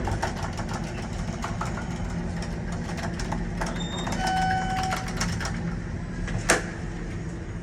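Dover hydraulic elevator car running during a short ride in a building in York, PA: a steady low mechanical hum and rumble fills the whole clip, with faint clicks and a brief sharp tick near the end.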